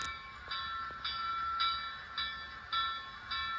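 A Broadway Limited Imports Reading T-1 model steam locomotive's bell rings steadily, about six evenly spaced metallic clangs with ringing overtones, fairly faint and close, over a low hum.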